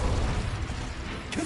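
Casting the Incendio fire spell in Hogwarts Legacy unleashes a dense, roaring burst of flame with a low rumbling body and a brief whooshing flick near the end.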